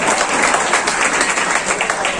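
Audience at an Urdu mushaira poetry gathering in Bhiwandi claps loudly, a thick continuous burst of many hands across the whole short span.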